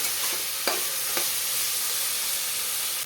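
Vegetables with turmeric, salt and ginger-garlic paste fry in a pan for peas dal khichdi, hissing in a constant close sizzle, with two brief stirring scrapes near the start and no voices.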